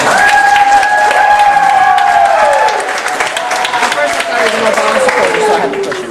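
An audience at a Mr. Toledo high school pageant applauds and cheers loudly, with sustained whoops early that fade while the clapping continues strongly to the end.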